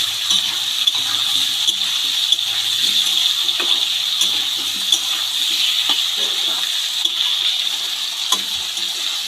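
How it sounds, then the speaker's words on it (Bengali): A little water poured into a hot pan of fried potatoes, tomatoes and green chillies sets off a loud, steady hissing sizzle, broken by occasional sharp clinks and pops throughout. "এবার জল দিয়ে দেবো জলটা সামান্য একটুই জল দিয়ে দিলাম"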